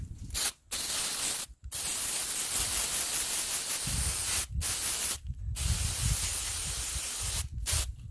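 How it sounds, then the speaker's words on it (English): A can of Rubber Flexx rubber sealer sprays in long, loud hissing bursts with short pauses between them, the nozzle partly clogged and spraying at an odd angle. "the tip is getting clogged, so I have to clean that out because it's spraying at a weird angle"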